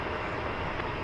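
A UPS MD-11 jet taxiing at DFW Airport at daybreak, a steady loud broadband engine roar that holds level throughout the short stretch, with no talk.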